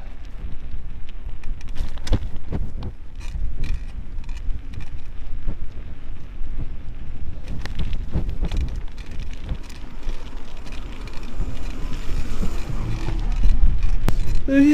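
Cold winter wind rushes and buffets steadily against the microphone while riding along main city roads, a continuous low roar with occasional sharper gusts.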